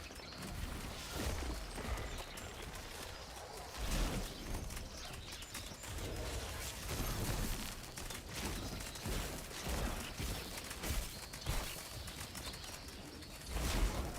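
Hundreds of birds swarm and attack enemies in the fantasy action game Soulframe, a dense flutter of wings and clattering hits that stays loud and busy throughout.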